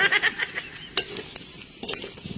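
Ingredients for dinuguan, a Filipino pork blood stew, are sautéed in a pot, with a soft sizzle under scattered scrapes and clinks of a spoon stirring against the metal.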